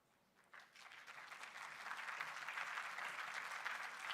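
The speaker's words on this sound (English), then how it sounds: "Sometimes I like these claps." Applause from a university audience begins abruptly and swells into steady, dense clapping that holds for several seconds. The sound is fairly distant, with no talking over it.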